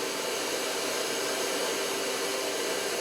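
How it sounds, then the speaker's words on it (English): A Milwaukee SDS hammer drill's dust-extraction vacuum attachment runs with a steady, loud, airy whine, continuous and close, with no voices. "you'll hear the vacuum on right now"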